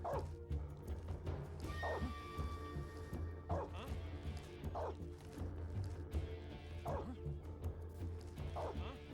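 A dog barks repeatedly in Metal Gear Solid 3, the sharp yips recurring every second or two over a low, busy game soundscape.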